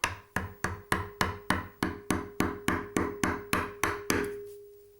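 Steady series of about thirteen sharp, evenly spaced mallet taps on a wood carving chisel cutting a flower, each crack ringing briefly before the next, close and clear with no talking.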